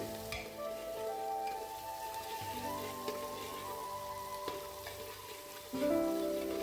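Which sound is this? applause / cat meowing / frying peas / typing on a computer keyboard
frying peas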